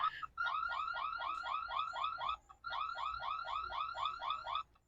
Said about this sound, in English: right away I'm going to try the alarm